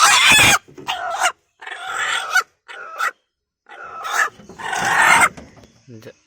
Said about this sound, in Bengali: দেখি কয়টা ডিম দিচ্ছে মুরগিটা